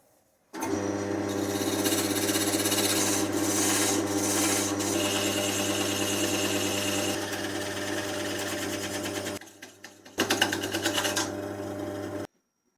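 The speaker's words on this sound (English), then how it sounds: "I'm going to turn down the base to where I want it to be." A wood lathe hums steadily while a tool turns down a laburnum pen base, giving a continuous rubbing, scraping cut that pauses briefly near the end before resuming.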